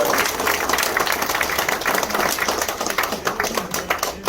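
Audience applause fills a campaign office opening for a provincial governor hopeful in Cheongju, a dense, steady clatter of many hands clapping at close range with no voices over it.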